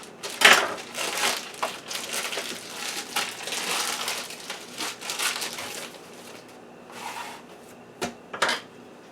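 A knife slices through garlic and herb pizza dough on a board, first lengthwise and then into pieces, making a run of close, scraping, crunchy strokes with brief pauses and a couple of sharper taps near the end.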